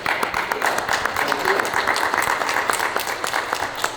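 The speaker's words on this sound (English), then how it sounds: "So give yourselves a round of applause." A tour group aboard the RMS Queen Mary breaks into a short burst of lively applause, many hands clapping close by while a voice talks over it.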